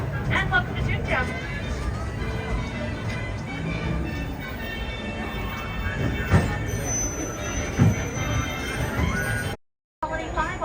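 Disneyland Railroad steam train rolling along with steady rumble and wheel clatter, a few sharp squeals and clanks, continuous under crowd chatter and ambient park noise.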